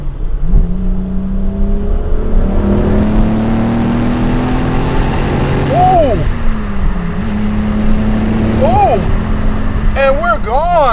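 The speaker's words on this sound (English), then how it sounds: "Let's downshift." Toyota Supra engine heard from inside the cabin, a steady drone dropping pitch on a downshift and climbing again in loud, rising revving sweeps under continuous road noise.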